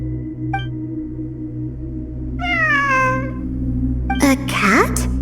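A cat in the game Genshin Impact meows twice, a short drawn-out call and then a sharper one, both clear over a steady droning ambient hum.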